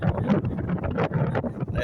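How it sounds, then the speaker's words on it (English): Gusty outdoor wind buffets the microphone at a backyard spa and infinity pool, a loud rumbling roar that surges and dips in uneven pulses, close and constant with no speech. "So it's a bit windy"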